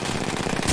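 A quick, loud burst of rapid gunfire in Apex Legends rattles in the player's ears as incoming shots land, a dense stream of cracks lasting under a second.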